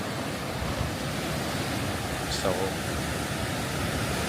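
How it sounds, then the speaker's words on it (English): Sea water washes against the rocks below the Rock of Calpe on the Spanish coast, a steady broadband surf roar heard from above, with a brief voice near the middle. "the lovely sound of the water hitting the rocks"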